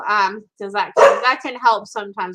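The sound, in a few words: dogs barking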